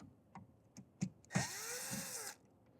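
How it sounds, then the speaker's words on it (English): A power drill backs out two screws from an RV door lock on a glass door: a few short clicks and taps, then a close, whining burst of the drill spinning up, winding down and stopping. "So first thing we're going to do is take off these 2 screws."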